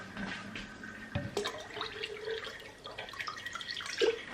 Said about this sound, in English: I haven't got enough, so I'm going to get some from the tap.